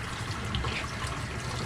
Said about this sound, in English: Rinse it with that hot water.